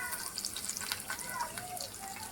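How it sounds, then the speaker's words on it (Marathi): Garlic dropped into hot oil on banana leaves while making a smoky fish fry, a soft crackling sizzle with light pops, faint and close, with brief background sounds. "तेल आता तापलेलं आहे त्याच्यात लसूण"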